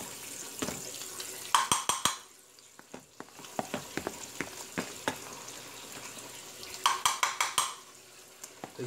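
Pancake batter sizzling in a buttered frying pan, with a soft steady fry under repeated sharp clinks and scrapes of a utensil against the pan and dishes.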